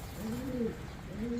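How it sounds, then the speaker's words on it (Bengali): Jacobin pigeons, almond coloured, give two soft, close, low cooing phrases, each a rolling rise and fall with a short pause between them. "2 জোড়া জ্যাকোবিন কবুতর"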